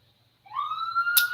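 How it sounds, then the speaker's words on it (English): A siren wails outside, heard through open windows, rising into a steady tone that stays moderately loud and somewhat distant, with a brief sharp noise burst near the end. "can you hear the siren in the back?"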